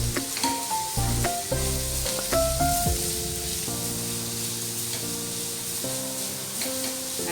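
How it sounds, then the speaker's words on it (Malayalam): A cup of grated coconut goes into a pan of frying onions, giving a steady sizzle with stirring noises throughout, partly under background music. "ഈ സമയത്ത് നമുക്ക് ഇതിലേക്ക് 1 കപ്പ് നാളികേരം ചിരകിയത് ഇട്ട് കൊടുക്കാം."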